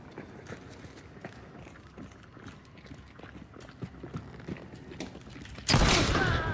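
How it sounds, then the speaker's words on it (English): Footsteps in the video game Hunt: Showdown, faint irregular thuds and creaks scattered across quiet ambience, ending in a sudden loud burst of noise. "I hear footsteps."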